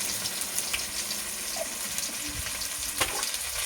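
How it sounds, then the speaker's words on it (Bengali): Dried chillies, chopped onion and five-spice frying in oil produce a continuous rushing sizzle with scattered pops and a brief louder burst near the end. "দিয়ে দিলাম একটা পেঁয়াজ কুচানো, আর দিয়ে দিচ্ছি এটা 5 ফোড়ন"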